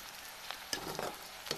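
Onion, green chili, garlic and ginger fry in a pan with a faint, even sizzle, broken by a few soft stirring scrapes.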